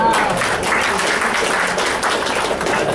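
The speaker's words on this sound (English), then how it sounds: "Let's give him a round of applause." Short burst of audience applause at a general membership meeting, dense steady clapping from a room full of people, fairly loud and uninterrupted for a few seconds.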